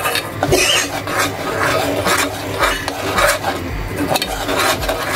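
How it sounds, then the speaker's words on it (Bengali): Palm fruit pulp and coconut milk stirred in a pot for patishapta pitha filling, a steady scraping and rubbing of spoon against metal repeating in strokes throughout, fairly close, with no talk. "এটা ঘন হওয়ার আগ পর্যন্ত নাড়বো, শুকনো করে নামিয়ে নিব"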